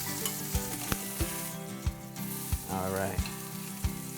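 Filet mignon searing in a hot pan, a steady loud sizzle with regular soft thumps and a brief bubbling swell near the end, close up, with someone briefly speaking over it.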